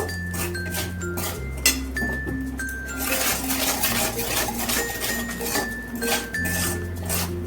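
Spices and salt being fried and stirred in a cooking pan for Bengali doi potol, giving a steady run of metallic clinks and scraping against the pan under soft background music.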